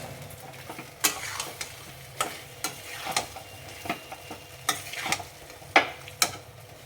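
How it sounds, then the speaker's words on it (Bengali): Fried chicken balls stirred into a pan of gravy for chilli chicken, a spoon scraping in irregular clicks over a low simmering sizzle, close and fairly quiet. "এরপর দেবো এতে বলগুলো, ভাজা বলগুলো দিয়ে দেবো।"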